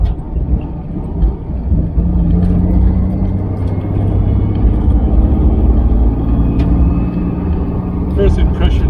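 An MGB converted with a V6 Camaro engine drives along a gravel road, its loud, steady low engine rumble and tire crunch filling the cabin throughout, with brief higher clicks near the end.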